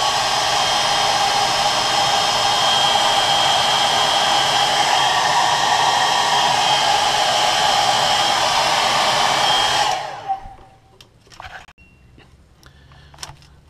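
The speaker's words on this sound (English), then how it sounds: "Now I always heat set my paint layers with a hairdryer." A hairdryer blows loudly and steadily for about ten seconds while heat-setting paint layers on a crankbait lure, then switches off and leaves faint handling clicks and taps in a quiet room.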